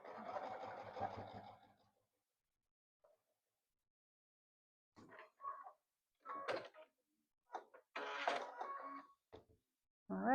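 A sewing machine stitches foundation paper-pieced quilt fabric, a close mechanical burst at the start followed by several short, stop-start runs of stitching and handling noises separated by quiet gaps.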